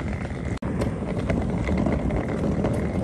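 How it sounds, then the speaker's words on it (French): Rolling suitcase wheels clatter steadily along the pavement of a quiet residential street, a continuous close rumble with small bumps and some wind noise on the microphone. "Les seuls bruits qu'on entend c'est le bruit de ma valise."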